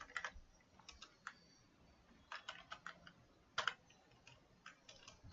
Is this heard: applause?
no